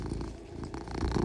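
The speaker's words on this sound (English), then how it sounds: "Enjoy the purr." A cat purrs close up, a soft rhythmic rumbling that pulses steadily throughout, with no talk.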